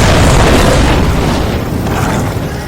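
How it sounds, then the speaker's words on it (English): Demons spitting fire in an audio drama, a heavy sustained whooshing roar of flame that bursts in loud and dense, then holds and fades slightly over a few seconds with no voices. "they spat fire at him"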